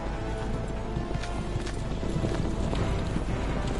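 A horse gallops flat out during a chase in Assassin's Creed Revelations, its hooves drumming in a fast, continuous clip-clop that stays loud and close throughout, with no speech.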